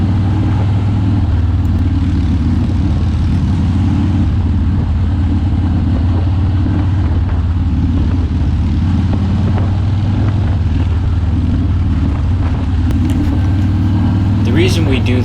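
A custom Harley motorcycle rumbles on a test ride with a steady, deep engine drone and road noise throughout, while someone talks over it.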